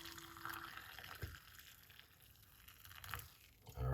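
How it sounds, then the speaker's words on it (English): Pineapple skin tea with cloves and ginger poured from a pot into a cup, a soft close liquid splash and trickle lasting a few seconds, with faint clinks, quiet and alone. "I'm just gonna pour out 1 cup out of it."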